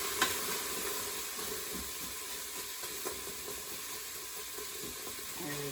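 Garlic sautéing in an Instant Pot on saute mode, a soft steady sizzle with a few faint spoon clicks, quiet and close, a voice heard only briefly.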